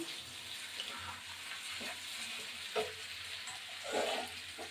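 Chicken liver, gizzard and neck fry in a pan with steady sizzling, broken by occasional scrapes and clinks as the pieces are stirred; no one speaks.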